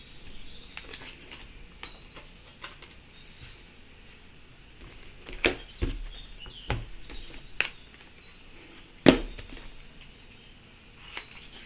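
Sparse chirps and short calls from birds in a quiet outdoor setting, with a few sharper, louder notes breaking through now and then.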